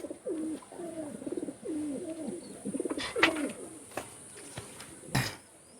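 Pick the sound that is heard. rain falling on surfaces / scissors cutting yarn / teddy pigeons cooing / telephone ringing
teddy pigeons cooing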